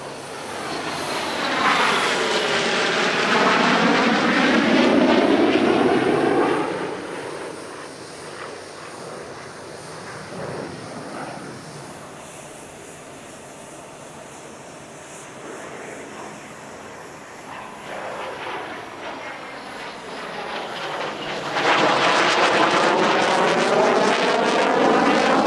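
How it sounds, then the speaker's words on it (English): An F8F Bearcat warbird flies a legacy flight past the crowd at an airshow, its loud propeller roar swelling as it approaches, fading through a quieter middle stretch, then building again as the formation passes a second time. "And now commencing a legacy flight in concert with an F-8F Bearcat."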